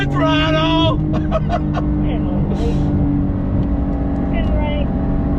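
A 2021 Porsche 911 sports car pulls hard on throttle on a track, its loud engine note steady and close throughout, with a voice talking over it early on.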